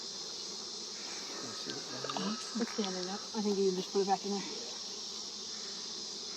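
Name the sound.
honey bees buzzing at an open hive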